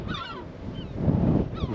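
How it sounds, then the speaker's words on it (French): Seagulls call from the rooftops of Lorient, a couple of harsh honking cries near the start and end, moderately close, over light wind with a low rumble in the middle. "Avec les mouettes."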